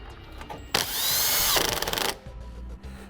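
A power tool runs up to speed and snugs down a 10mm-headed bolt for a tow base plate on a 2015 Jeep Cherokee, making one loud, close whirring burst of about a second and a half that ends in rapid ratcheting pulses.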